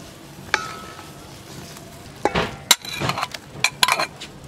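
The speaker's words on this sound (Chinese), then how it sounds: "全部准备好了，开始拌馅儿" Stirring dumpling filling of egg and wood ear mushrooms in a bowl, with scattered scraping clinks and soft wet mixing sounds, close up and fairly brief, no talk.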